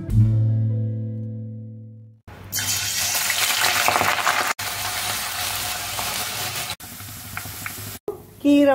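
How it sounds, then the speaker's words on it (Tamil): Malabar spinach leaves fry in a pan with a loud, steady broadband sizzle that breaks off briefly a few times. A low steady hum comes before it starts. "கீரை வறுபட்டு"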